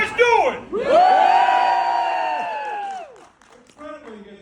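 A crowd at a pre-screening Q&A for Super Troopers roars with loud whooping cheers that swell, hold for a couple of seconds and fade, followed by scattered voices.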